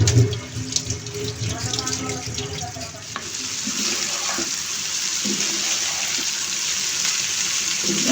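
Tap water runs steadily into a kitchen sink while fresh chapila fish are rinsed by hand, with some clatter and splashing early on before a continuous close rush of water.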